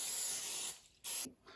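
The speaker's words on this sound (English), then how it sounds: "So we're gonna spray our bowl" Cooking spray hisses from an aerosol can onto a bowl ahead of laying in rustic bread dough, first as one long steady burst, then a short second spray and a faint third puff, close and alone.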